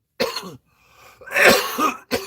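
Repeated harsh coughing from one person, loud and close, in two bursts with a short pause between, then a final cough; no speech.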